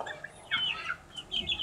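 Kampung chickens, about 65 days old, on a small farm in Aceh, cluck in short bursts, several close calls coming in two clusters over a low background murmur.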